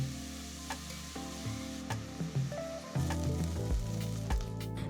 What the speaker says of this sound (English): saute it till the onions turn golden brown